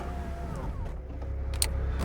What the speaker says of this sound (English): I'll put my windows back up.